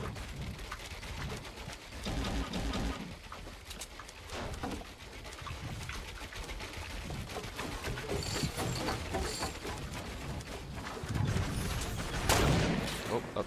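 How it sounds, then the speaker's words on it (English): Sniper gunfire in an online shooter comes as sharp, scattered cracks over game ambience. The shots are heard at a distance and then closer, with talk over them. "Oh shit, I'm getting sniped at"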